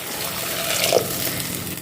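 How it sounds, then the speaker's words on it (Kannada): Water is poured into ground fish curry masala, a short, continuous liquid gush heard up close for under two seconds, with no voices. "ಮತ್ತು ಇದಕ್ಕೆ ನೀರು ಹಾಕಿಕೊಳ್ಳಿ."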